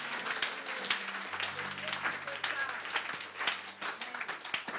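A church congregation claps and applauds the Lord continuously throughout, dense steady applause filling the space with a sustained organ or keyboard tone underneath.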